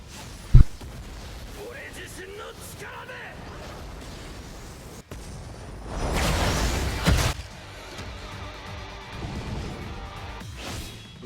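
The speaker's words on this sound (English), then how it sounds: "I'll go ahead and play his Soul Bomb animation." Aizen's Soul Bomb special attack animation in Bleach Brave Souls, with a sharp hit near the start, a low whooshing surge, then a heavy crash and a rumbling wash of game effects that tails off into a final impact.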